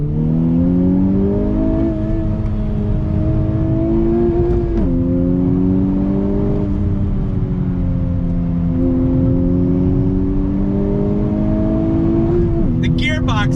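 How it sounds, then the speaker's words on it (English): A 2020 Honda Civic Type R engine pulls hard on throttle along twisty roads, its loud steady drone climbing in pitch through the revs with a brief dip at a shift, heard from inside the car with no talk. "let's have a little bit more fun doing what this Type R is all about. In the twisty bits, on throttle."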